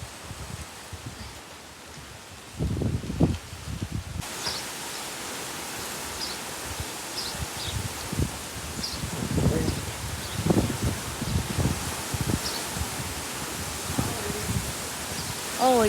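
Squall line thunderstorm with microburst winds: a steady roar of wind and pouring rain rushing and rustling throughout, with gusty surges growing louder after the first few seconds.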